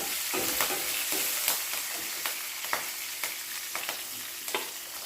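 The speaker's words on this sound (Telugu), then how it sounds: "కరివేపాకు కూడా వేసుకుందాం పచ్చిమిర్చి ఉల్లిపాయ కూడా వేసుకొని కలుపుకోవాలి" Curry leaves, green chilli and onion frying in a pan for an okra and peanut fry, with a steady sizzle broken by sharp scraping strokes of stirring at an even pace.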